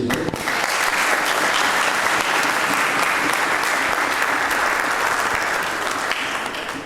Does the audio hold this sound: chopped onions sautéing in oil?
no